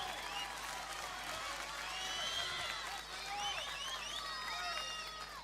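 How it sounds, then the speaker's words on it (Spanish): A festival crowd at an outdoor night celebration applauds faintly and distantly, a soft wash of clapping threaded with shrill whistles and cheers. "Fuerte el aplauso, mi compa,"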